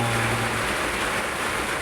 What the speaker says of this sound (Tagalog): Bumuhos po yung ulan mga tol, hindi namin inaasahan.